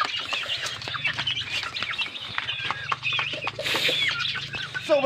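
Young chicks peep continuously in high, busy calls close by, with occasional louder chirps and some low clucking and rustling underneath.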